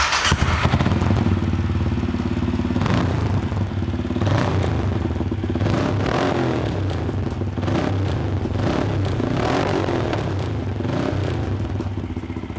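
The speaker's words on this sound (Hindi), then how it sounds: "तो एक बार इसको फायर अप करते हैं।" A 2020 Benelli motorcycle revving loudly through its stock exhaust, steady close engine roar with rhythmic throttle blips throughout, no talk.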